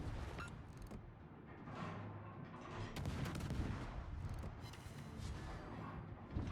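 Video game gunfire as a player turns his guns on an enemy: a dense, continuous barrage of rapid shots and mechanical clatter, fairly steady and loud throughout, with no talk over it.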